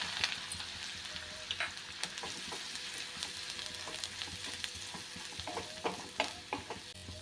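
Ground masala paste frying in a pan after turmeric, a quiet steady sizzle with irregular stirring scrapes and soft clicks of a spoon, close and without talk.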